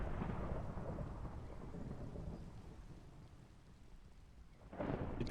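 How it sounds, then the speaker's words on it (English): A Minecraft thunderstorm rumbles with steady rain, a long thunder roll fading out before another loud crack of thunder bursts in near the end. "Typical Minecraft, right? Rain and storms."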